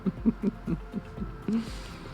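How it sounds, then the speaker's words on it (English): A heater runs steadily in the background, giving a low hum with a regular soft pulsing thump, and no one speaks. "I realize that the heater just came on"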